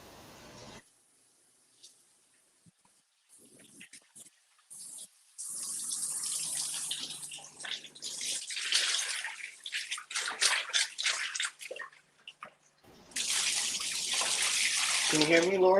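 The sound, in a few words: water running, tap or basin filling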